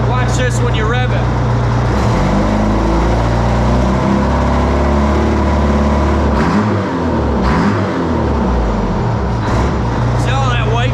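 A race truck's engine revs loudly and close by, its deep rumble rising and falling through several throttle blips, with voices talking over the running engine.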